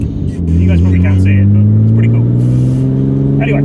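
Loud, close engine revving from a car parked beside a Mini JCW, with a deep droning note that climbs steadily in pitch as it is held. Someone talks over it briefly.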